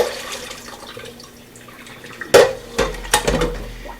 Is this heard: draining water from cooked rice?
yes